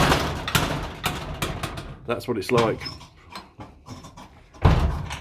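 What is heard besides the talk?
heavy wooden garage door dropping and banging shut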